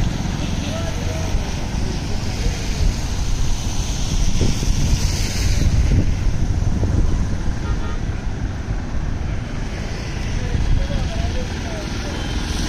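Floodwater flows across the Deglur road in heavy rain, a broad, continuous rushing wash with vehicles passing through it and wind buffeting nearby.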